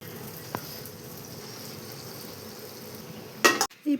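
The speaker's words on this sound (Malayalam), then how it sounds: "ഇത് ബാറ്ററിൽ മുക്കി ഒന്ന് ഫ്രൈ ചെയ്തെടുക്കാം." Banana slices dipped in batter for pazham pori fry in hot oil, a steady low sizzle running throughout with a brief clatter of utensils near the end.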